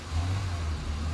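A BMW E30 325iS six-cylinder engine under full throttle, steady low rumble that sags and falters as it loses power, close and fairly loud with no talk.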